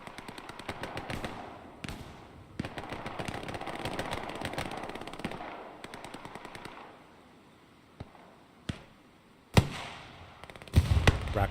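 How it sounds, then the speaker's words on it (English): Rockets fired into buildings during a team battle on Kharkov, mixed with crackling automatic gunfire: a busy stretch of rattling shots and pops, then scattered sharp blasts and heavier explosions at the end. "Rockets getting fired into the buildings."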